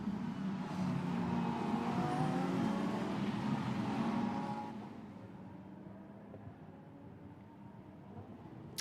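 A Lamborghini Super Trofeo race car runs on a circuit, engine droning loudly and steadily, then easing off and receding after a few seconds into a quieter, distant hum.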